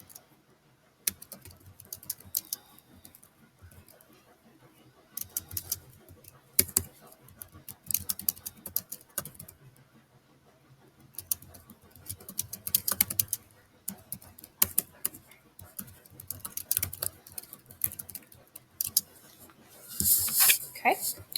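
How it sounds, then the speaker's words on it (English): Typing on a computer keyboard comes in faint, irregular bursts of light clicking and tapping with short pauses, spread through a quiet indoor room, with occasional mouse clicks. "Give me just a second as I type that in."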